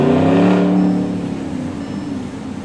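A car accelerates hard with its front lifting at an industrial garage area, giving one loud, close engine surge that then fades and recedes.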